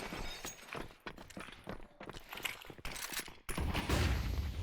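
Rapid bursts of gunfire crackle from a Counter-Strike match, with sharp shots and breaking sounds scattered through, growing louder and denser near the end.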